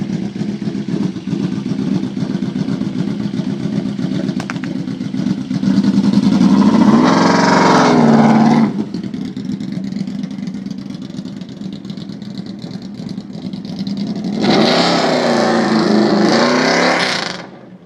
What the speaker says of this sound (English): a 4-1 UFO Dragstar on a 2005 Yamaha VMAX